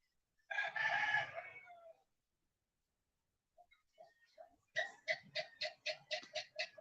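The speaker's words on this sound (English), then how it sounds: "Rooster everywhere." A rooster crows once, loud and close, followed after a pause by a quick series of sharp, rhythmic clucks or short calls from the same fowl.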